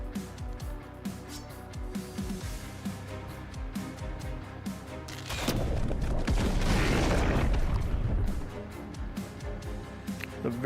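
Explosion in the video game The Last Spell, a broad booming burst that swells loudly in the middle and fades, set against busier game sounds with sharp clicks and hits before it.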